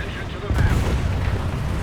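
A Tiger II tank's 10.5 cm cannon fires in War Thunder realistic battles, a single heavy boom that rises abruptly and rumbles on, with a voice talking under it.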